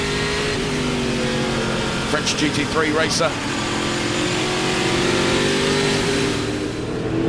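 Speedcar Series race cars at the 2008 Malaysia round roar past on track, a continuous loud engine drone with rising and falling revs as cars pass, heard under commentary.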